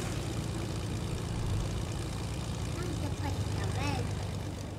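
A propeller airplane engine in Fortnite drones as a loud, continuous rumble close at hand, with a voice talking over it.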